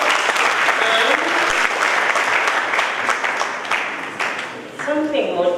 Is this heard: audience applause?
yes